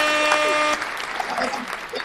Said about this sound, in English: Could we hit a round of applause?